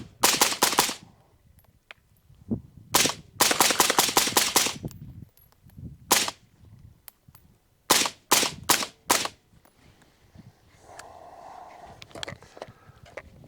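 A Global Ordnance Monolith fitted with a Lancer magazine fires in several sharp close volleys of quick shots separated by short pauses, ending with quieter mechanical handling and a faint hum.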